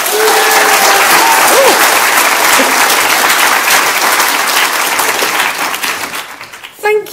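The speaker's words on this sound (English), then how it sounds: "Can I have a rapturous round of applause?" A conference audience gives loud, sustained applause for a keynote speaker at a live marketing event, dense clapping that holds steady and then thins out toward the end, where a voice briefly cuts in.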